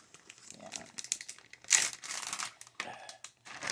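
A plastic gallon-size double-zipper freezer bag crinkles and crumples in close, uneven bursts with a louder rustle midway, alongside soft background voices.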